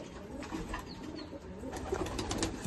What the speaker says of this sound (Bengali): ভাইয়ের বাড়ির ওড়ানো পায়রা